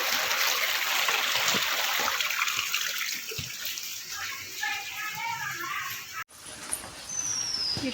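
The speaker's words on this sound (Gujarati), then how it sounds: "જો આ ધાબાનું પાણી આવેલું ઉપરથી." Rainwater pours steadily off a roof terrace during continuous heavy rain, a loud broad splashing rush that fills the whole stretch, with a voice briefly heard partway through and a short break near the end.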